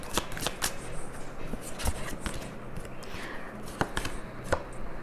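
Tarot cards being shuffled and drawn, a dense run of soft riffling snaps and slaps close up, fairly quiet, with no talking.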